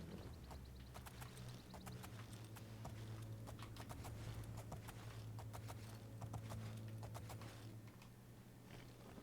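Steady clip-clop of horse hooves on hard ground in the fantasy role-playing game Oblivion, a rhythmic run of clear hoofbeats over a continuous low ambient rumble.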